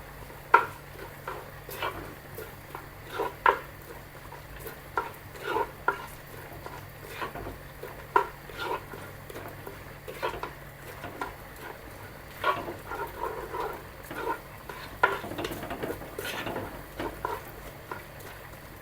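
Curry leaves dropped into hot oil in a home kitchen, part of a sardine curry with jackfruit seeds, giving a soft steady crackle and sizzle with light stirring and utensil clinks throughout, close and fairly quiet.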